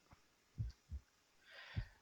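Heartbeat effect in a military shooter video game, faint low double thumps repeating slowly under a soft hiss, with no voices.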